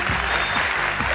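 A studio audience on an Afghan Family Feud–style game show claps steadily, dense continuous applause filling the whole short moment, loud and close, with no voices standing out.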